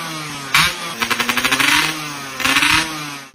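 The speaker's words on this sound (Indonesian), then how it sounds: "jatuh kepada motor-motor dengan knalpot brong" A motorcycle fitted with a loud aftermarket knalpot brong exhaust blasts past, one sharp burst followed by rapid pulsing revs that rise and fade, then another throaty rev near the end, loud and close.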